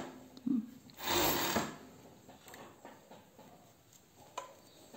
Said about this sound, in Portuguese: eu coloco aqui e vou passar o overlock nas laterais